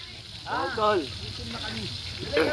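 Food sizzles and fries in a pan in an island home kitchen, a soft steady crackle running under a person talking nearby.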